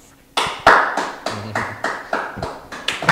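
Separate bursts of audience clapping during a drawing game to choose a winner, roughly eight sharp rounds in quick succession, each swelling then fading, close and fairly loud with no talking.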